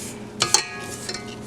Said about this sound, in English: I'm going to scrape down the bowl really quickly